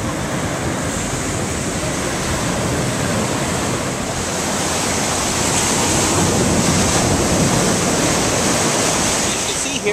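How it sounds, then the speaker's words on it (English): Sea waves break and wash continuously on an eroding beach after a tropical storm, a loud, steady surf roar with wind buffeting the microphone. "You can see here how the sea is really eroding the beach away"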